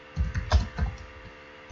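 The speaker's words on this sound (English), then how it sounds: "typing your message in here." Computer keyboard typed on while entering text in a drafting program: a few quick bursts of clicky keystrokes, close and moderately loud, then a quiet pause.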